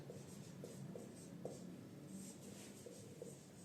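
Pen scratching out notes during a basic chemistry lesson on the periodic table, soft and steady with short strokes and taps, quiet and close with no talk over it.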